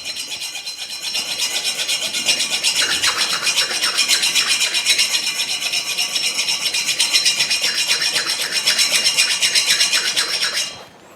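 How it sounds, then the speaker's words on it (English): A rough stone scrubs scale from a forged steel hammer-and-chisel graver, producing a steady, close, rasping scrape that runs without pause for about ten seconds before stopping abruptly. "You just take a stone, or you can use the grinding disc off an angle grinder. You just want something rough that can take that scale off."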